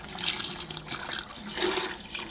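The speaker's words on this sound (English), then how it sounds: "I'm gonna go ahead and pour the beef broth in here." Beef broth poured from a container into a pot of oxtails for collard greens, a steady splashing liquid stream running continuously without pause, close and clear with no talking.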